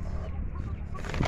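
A large hen in a free-range poultry yard clucking softly a few times, close by, over low background noise.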